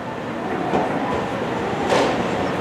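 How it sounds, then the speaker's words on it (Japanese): Nankai 10000 series Southern limited express train bound for Namba, in Yokai Watch livery, rolls into a station with a steady, close rumble that swells twice, and no voices are heard. "ただいま到着の電車は特急サザン難波行きです。"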